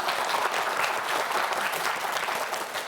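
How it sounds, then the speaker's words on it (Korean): A quiz show studio audience applauds steadily, a dense, even patter of clapping that holds for a few seconds. "박수 보내주세요."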